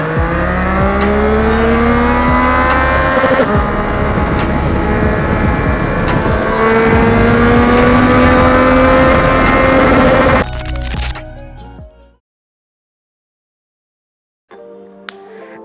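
Yamaha XSR900 motorcycle with a custom seat revving hard in first gear toward redline, a loud, rising engine whine that climbs steadily with brief shift breaks before cutting off into near silence.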